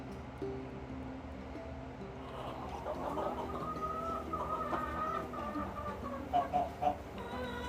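Meat-bird chickens cluck on an off-grid homestead, faint calls rising over a constant background hum, with a few louder clucks near the end.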